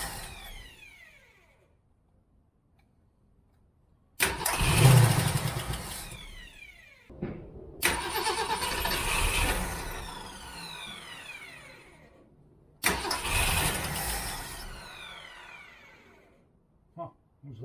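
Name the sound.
1967 Mustang 390 engine cranking, failing to start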